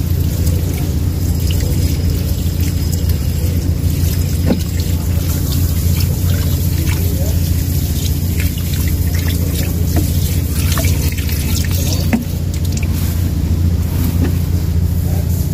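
Water is sprayed onto plants in a home yard garden with a continuous loud hiss and splatter, steady throughout, with scattered small knocks and drips.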